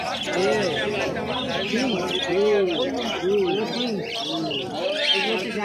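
Busy, layered chirping and whistling calls from many cockatiels and finches at once at a pet market, close and continuous, like an aviary chorus.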